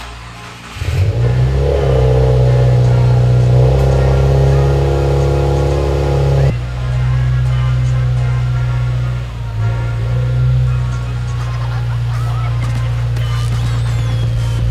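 A Subaru WRX with a large APR GTC-300 GT wing backs out, its engine a loud, steady, close-up drone that rises and settles slightly while reversing.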